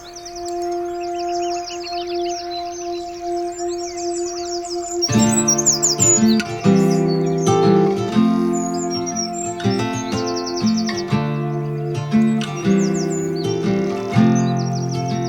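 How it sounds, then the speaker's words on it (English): A Cetti's warbler sings at dawn at Elmley Nature Reserve, loud explosive bursts of bright notes close by, first over a steady low hum, then among a busier chorus of other birds. "Good morning, says the Chetty's warbler"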